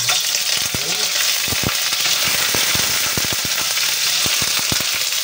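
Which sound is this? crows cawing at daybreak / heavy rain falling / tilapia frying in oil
tilapia frying in oil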